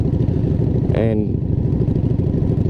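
A Yamaha V-Star learner cruiser motorcycle runs with a steady, low, throbbing engine rumble throughout, while a voice briefly cuts in over it.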